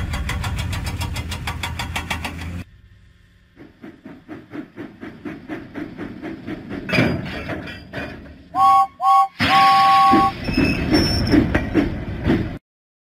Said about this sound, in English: James pumped his pistons and puffed out of the docks.